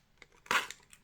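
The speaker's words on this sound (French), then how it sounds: "Je vais en ouvrir un." A small packet of autumn decorations is torn open with one short, crisp crinkle of plastic at close range, with a few faint rustles before and after.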